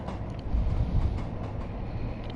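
A train in a PS4 video game runs with a continuous loud, low rumble and rolling wheel noise, steady throughout with no voices.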